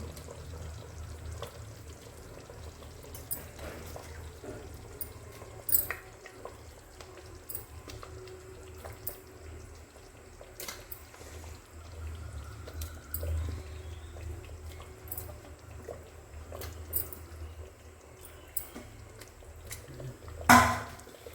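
Cleaned fish pieces are slipped into a simmering fish curry (meen kuzhambu) in a home kitchen, making a low bubbling simmer with scattered soft plops and clinks and a sharper clatter near the end, without talking.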